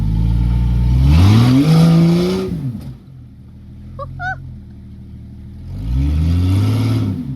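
A Jeep XJ engine on an offroad rock trail revs hard twice, pitch climbing and falling in loud rising sweeps with a quieter idle lull between, like tires spinning on rocks; a brief chirpy sound sits in the pause.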